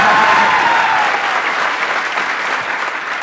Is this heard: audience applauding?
yes